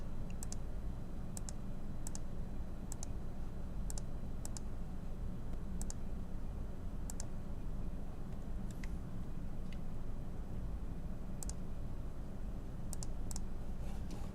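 A computer mouse clicks on a desk while working in Photoshop CS6, delivering sharp, light clicks at irregular intervals, sometimes in quick pairs, over a steady low room hum.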